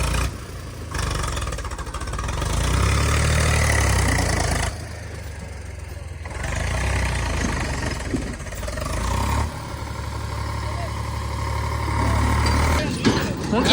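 A tractor engine idling in a village field while tractors unload fodder, a steady low rumble with rough broadband noise, dipping briefly in gaps before resuming, close by and fairly loud.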